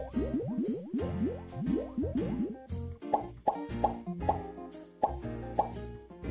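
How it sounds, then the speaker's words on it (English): Cartoon-style squishy plops from a sponge working up soap bubbles while washing a character, a quick run of bouncy wet squelches followed by a slower series of distinct plops over music. "Make bubbles with a sponge."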